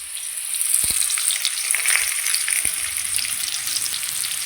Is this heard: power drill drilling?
no